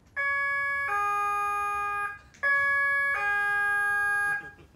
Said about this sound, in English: When you hear this siren...